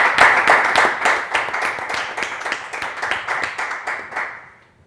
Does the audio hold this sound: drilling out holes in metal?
no